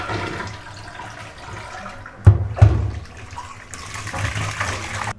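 Raw prawns are rinsed by hand in water in a kitchen, with a steady splashing wash, two sharp sloshing pours near the middle, then continued swishing, close and fairly loud with no talk.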